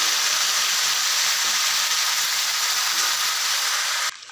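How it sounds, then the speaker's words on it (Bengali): Shredded cabbage hits hot oil with a bay leaf and cumin seed tempering in a home vegetarian kitchen, giving a loud, steady sizzle and hiss that runs unbroken for about four seconds before cutting off abruptly. "এখন বাঁধাকপিটা দিয়ে দিচ্ছি।"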